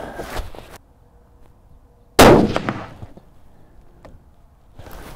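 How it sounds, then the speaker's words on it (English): Two sharp gunshots from a Bergara B-14 HMR rifle, one at the start and a louder close crack about two seconds later that rings out briefly, with quiet gaps between. "I'm not shooting very well on this one. This is not the rifle, it's me."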